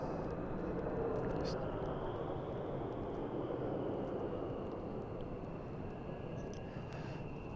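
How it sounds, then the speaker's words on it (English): F-16 fighter jets rumble faintly in the distance near RAF Lakenheath, a steady broad roar that swells slightly around the start and holds throughout. "I'm sure I can hear the sound of F-16s in the distance."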